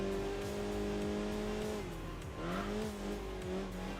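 A race car engine in Enthusia Professional Racing revs continuously and loudly, its pitch dipping briefly before climbing again, with tire noise underneath and no talk.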